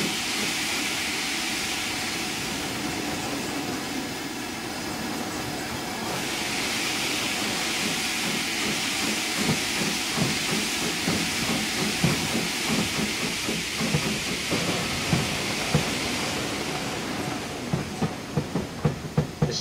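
The small J50 steam locomotive on the Western Lines of Scotland, with a steady steam hiss and rail rumble building into rhythmic chuffs and clicks toward the end, heard up close with no talking.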